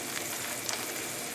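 Octopus heats in a hot pan with a steady, close sizzle and faint crackle throughout, no voices present.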